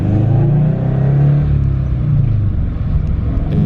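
A Subaru BRZ fitted with loud aftermarket headers is revved to about 3,000 RPM, giving a close, loud, deep exhaust drone that holds steady and swells slightly.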